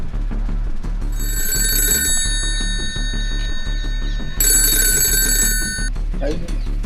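A telephone bell rings loudly in two long bursts, the second after a short pause, over a steady low hum, in a comedy sketch about a deal for fifty tons of Chinese kite string.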